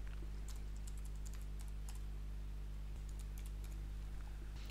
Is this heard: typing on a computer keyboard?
yes